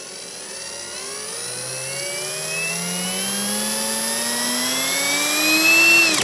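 A Parkside cordless drill motor spins up smoothly and continuously, its whine rising steadily in pitch like a small turbine and growing louder over several seconds, heard close and alone.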